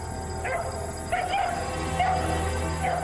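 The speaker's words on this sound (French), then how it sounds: "Dans le jardin, le chien aboyait de façon très inhabituelle." A dog barks unusually in a garden at night, a series of yipping, whining barks repeating about every second over a steady humming background.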